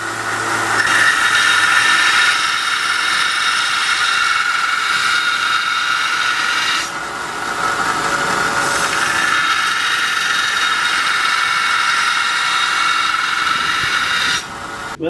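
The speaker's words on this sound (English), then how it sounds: "we used the sander for probably, I'm going to say better than an hour, just grinding on that knife" A Harbor Freight 1x30 belt sander grinds a knife blade with a loud, continuous whining rasp whose pitch and pressure shift as the blade is worked, with no talking.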